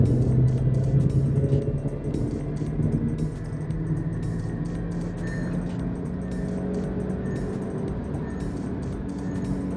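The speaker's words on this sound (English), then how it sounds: "But listen to the engine." Skoda Kushaq 1.5 TSI manual pulling under full throttle, a steady engine drone and low rumble with rising tone heard from inside the cabin, sustained and fairly loud over road noise.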